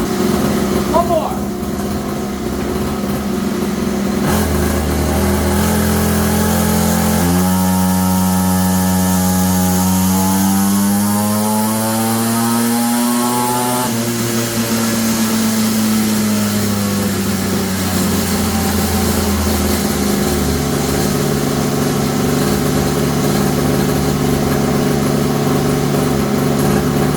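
A small Temu mini moto engine fitted to a kids' quad, revving hard on a dyno for a horsepower pull, its pitch climbing and sweeping under steady engine noise with speech over it.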